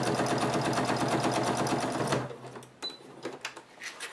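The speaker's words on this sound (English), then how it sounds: "I'm edge stitching to get the Velcro sewn right into place." A sewing machine edge-stitches Velcro onto fabric in a steady, rapid mechanical rhythm for about two seconds, then stops, leaving faint clicks and light handling noises.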